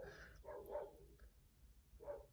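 A few dog barks at a moderate distance, two close together early on and another after a short pause, over a low background rumble.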